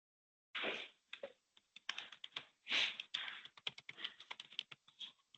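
Keys clatter on a computer keyboard in irregular bursts of quick taps and short pauses, close and clear in an otherwise quiet room, while account details are typed in.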